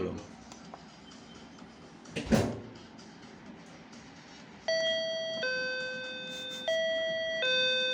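An apartment doorbell in a Japanese rental flat chimes with a clear electronic ding-dong tone, ringing twice in sustained stepped notes after a brief bump and low background noise, with faint talk earlier.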